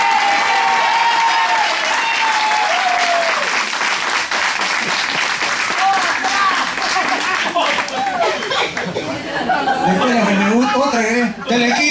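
A live comedy audience bursts into applause and chuckling laughter, dense clapping filling the room and tapering toward the end as scattered laughs continue underneath.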